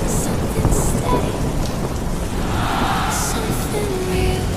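Heavy rain pours steadily with a deep rumble of thunder running beneath it, a dense, loud, continuous wash of sound; no talk.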